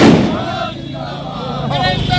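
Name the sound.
fireworks at a victory celebration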